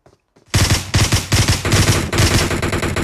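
In PUBG Mobile on Erangel, sustained automatic gunfire bursts loudly and rapidly after a brief quiet moment, continuing in dense volleys for several seconds without talk.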